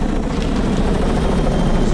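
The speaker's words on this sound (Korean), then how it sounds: "갑자기 어디선가 헬기 소리가 들려옵니다" A helicopter thunders steadily overhead, its dense rotor roar loud and continuous with a low, throbbing chop and no voices.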